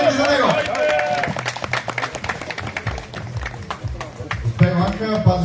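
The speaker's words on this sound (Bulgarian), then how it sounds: "Искам да чуя вашите аплодисменти за него." A crowd at a Strongman of Bulgaria competition in Plovdiv applauds competitor Ivan Ryankov, with dense, steady clapping throughout and an announcer talking over it from near the mic.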